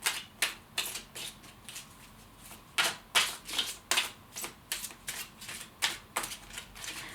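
Tarot cards are riffled and shuffled close by in quick soft bursts, a run of papery flicks and taps repeating irregularly at low volume with no talk.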